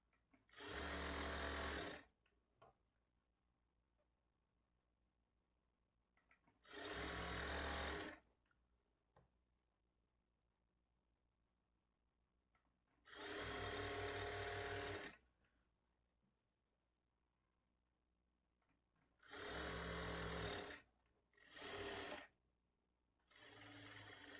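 Sewing machine stitching thread piping along fabric: loud, close whirring runs of stitching in five separate bursts of about two seconds each, with quiet pauses between them.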